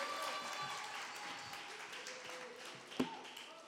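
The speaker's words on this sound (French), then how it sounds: "je crois qu'on peut applaudir" Applause from an audience after a talk, a soft, distant wash of many hands clapping steadily, with one slightly louder knock near the end.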